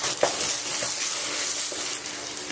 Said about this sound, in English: So I'm gonna stir it. Stir the rosemary.